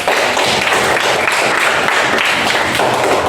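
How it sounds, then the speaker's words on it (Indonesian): Steady, loud, dense applause from a classroom of students, clapping continuously and close by without a break. "kita berikan aplaus dulu"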